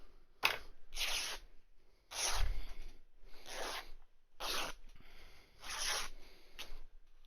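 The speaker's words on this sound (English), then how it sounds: "I'm just going to line up that last one I did and snip it right on the edge" Scissors snip through a fabric strip being cut for a sewn face mask, giving six crisp, close cutting strokes in a steady rhythm with short pauses between them.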